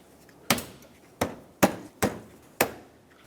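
Five sharp, separate knocks at uneven spacing, each with a brief ringing tail, as a Honda Fit bumper cover is struck firmly onto stiff retaining clips during a headlight assembly replacement.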